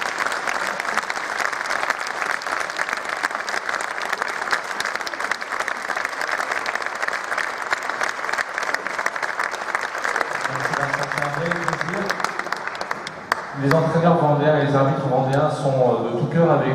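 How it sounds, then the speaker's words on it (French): A colloquium audience at the Vendéspace applauds basketball coach Vincent Collet with loud, sustained clapping; a voice starts talking over it near the end as the applause continues. "Je vais vous demander d'applaudir immensément Vincent."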